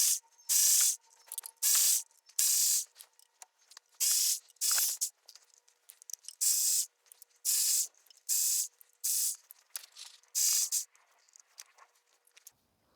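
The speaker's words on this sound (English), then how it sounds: "So now I'm going to remove all of the bolts." A ratchet spins out oil pan bolts on a 2010 Subaru Outback 3.6 in a run of loud, close, evenly spaced bursts of rapid clicking, separated by brief quiet gaps.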